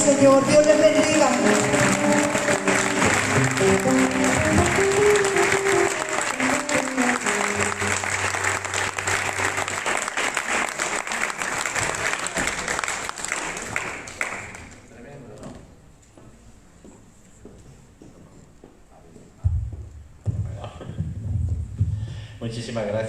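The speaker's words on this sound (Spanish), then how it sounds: "Dale ese aplauso al Señor." Church congregation applauding during a united worship service, a dense steady burst of clapping that fades out midway, followed by quieter scattered sounds and a voice.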